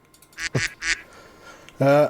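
People voice-imitate duck quacks over a Discord call, a few nasal quacks of mixed loudness ending in one loud, close, drawn-out quack.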